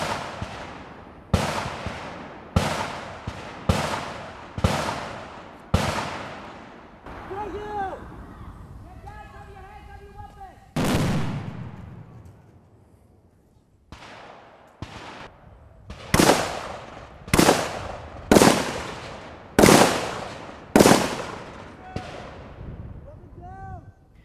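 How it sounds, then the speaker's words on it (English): Bursts of gunfire laying suppressive fire during military training, a loud rhythmic run of sharp shots, then a pause with distant chatter and a lone boom before another steady volley of close, evenly spaced shots. "he can't do his job without him laying some kind of suppressive fire"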